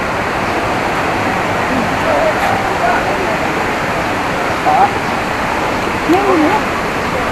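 Water pours over rocks at Langvoku waterfall in a loud, continuous roar that fills the whole stretch, with faint faraway voices and a few brief chirps barely rising above the rush.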